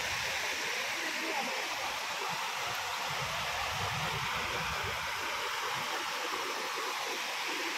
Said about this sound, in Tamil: இங்க ஃபால்ஸ்லாம் இருக்கு.